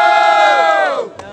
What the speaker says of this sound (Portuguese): Barulho para as rimas do Nerd